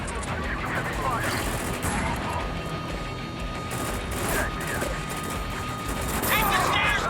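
Heavy, continuous gunfire fills a Spec Ops: The Line battle near a helipad, a dense rattling roar with scattered sharper cracks. Voices shout over it.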